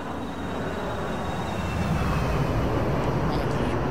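A Boeing 737-300 jet roars past in the X-Plane 12 flight simulator on a climb out of Omaha, a broad, steady engine rush that swells slightly louder as the airliner passes.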